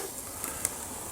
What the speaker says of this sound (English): grilling my chops